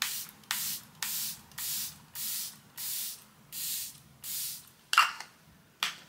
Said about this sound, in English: this is a different setting spray